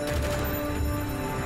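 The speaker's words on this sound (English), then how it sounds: "We keep shooting at one guy." Continuous automatic gunfire from a Call of Duty Black Ops campaign firefight, a steady dense rattle of shots with no clear gaps, loud and close throughout.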